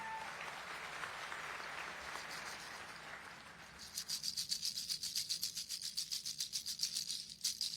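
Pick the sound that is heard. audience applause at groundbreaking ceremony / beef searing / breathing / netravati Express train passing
audience applause at groundbreaking ceremony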